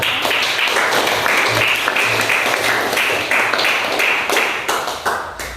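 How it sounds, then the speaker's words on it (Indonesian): Classroom applause fills the room, a steady dense wash of many hands clapping loudly throughout, tapering slightly near the end. "Silakan kamu berikan aplaus sekali lagi untuk"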